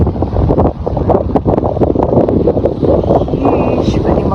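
Strong wind at a beach with big waves buffets the microphone in loud, rough gusts, with voices faintly underneath.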